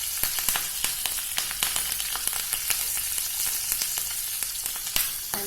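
Green chilies hiss and crackle in hot oil for a dal tempering, a steady loud sizzle dotted with sharp spluttering pops throughout, with no voices.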